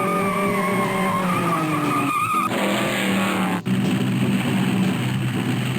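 Tires skid and squeal with car engine noise during a truck chase in the Spy Fox in Dry Cereal game, loud and continuous, with a sharp shift in the sound partway through.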